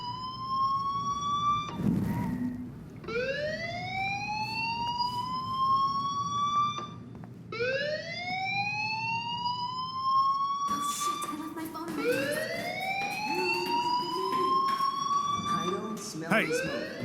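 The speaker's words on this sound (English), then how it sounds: "do you hear that fire alarm? That means you should be outside." A school fire alarm in the game Life Is Strange Remastered whoops in repeated rising electronic sweeps, roughly every four seconds, loud and steady over a low background hum.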